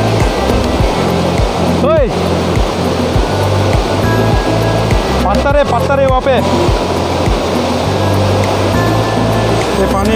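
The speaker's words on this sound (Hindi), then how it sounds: "ये पानी बहुत तेज है पानी।" Fast, turbulent river water rushes over rocks at Robi Nala near Haflong, a loud continuous roar with people talking and calling out over it.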